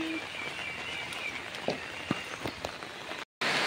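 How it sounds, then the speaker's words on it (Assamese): Heavy rain falls steadily over a village during severe flooding, a dense continuous wash with scattered sharper drops and splashes close by, ending in a brief cut before the downpour resumes. "আজি বৰষুণ একদম বেয়া, সৰ্বনাশ, বৰ বেয়া বৰষুণ দিছে"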